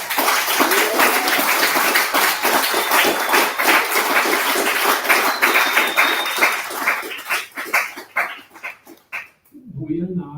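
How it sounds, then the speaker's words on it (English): A crowd claps steadily for several seconds, dense and fairly loud, then the applause thins out and fades, with a voice starting at the very end. "applause, why not?"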